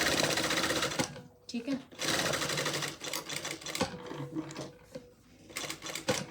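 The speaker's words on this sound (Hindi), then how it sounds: "तो यहाँ पे मारते हैं कच्ची सिलाई 5 पे करके इसको, और इस फैब्रिक पे हम कच्ची सिलाई मारेंगे।" A sewing machine runs a basting stitch on fabric, set to stitch length 5 for a pocket, whirring in steady bursts with brief pauses while someone talks over it.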